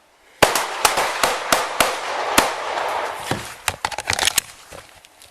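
Police officers fire their guns at a suspect armed with a rifle: about a dozen loud, sharp shots, first spaced out, then in a quicker irregular burst near the end.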